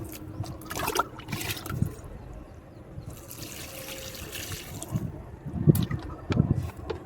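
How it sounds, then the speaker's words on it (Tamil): Water solution splashes and trickles steadily from a container onto potted rose plants on a terrace garden, with a few louder gushes and small knocks toward the end, close and unaccompanied by talk. "அதை வந்து எல்லா செடிக்கும் ஒவ்வொரு டப்பா ஊற்றி விட்றேன்."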